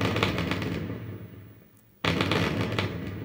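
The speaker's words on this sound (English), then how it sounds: "Pin 23 is M explode, which I'm guessing is missile." An explosion effect from the Zaxxon arcade game's missile-explode sound circuit, with a loud noisy burst that fades over about two seconds before a second abrupt blast begins.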